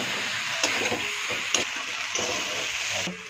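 Papaya and potato curry stir-fried in a pan, a steady close sizzle and hiss with a few soft scraping stirs, no voices.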